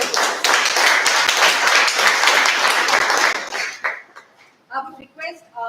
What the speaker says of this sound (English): together let us welcome our guests with a round of applause